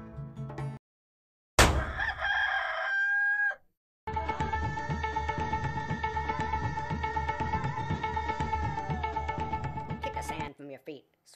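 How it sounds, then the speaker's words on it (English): A rooster crowing, loud and close, in a cartoon-like musical track: a short crow bursts out after a pause, then a long sustained cock-a-doodle-doo rings over rhythmic accompaniment before cutting off. "You darn rooster!"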